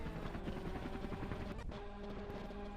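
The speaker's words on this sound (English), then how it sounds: "There's a helicopter." A helicopter in the RaceLeague racing video game gives off a steady rhythmic rotor chop over a constant engine drone. It is fairly loud and continuous throughout, with no one talking.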